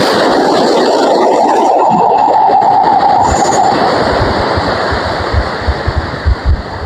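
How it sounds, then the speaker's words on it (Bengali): Loud rushing surf of waves breaking and washing ashore, with heavy wind buffeting the microphone. "আর ওইদিকে সমুদ্রের পাড়ে জলের ঢেউ আসছে দেখুন ভালো করে।"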